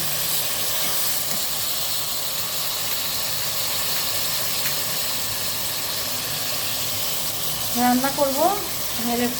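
Taro vegetable being stirred into prawns in a hot pan for a Bengali curry, a steady close hiss and sizzle with faint scraping, and a brief voice surfacing near the end.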